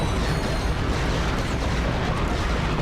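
Meteor gun in the video game Ratchet and Clank 2 fires in a dense, continuous roar of explosive bursts, loud and unbroken throughout.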